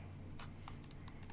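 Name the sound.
OneXPlayer Apex D-pad micro switches clicking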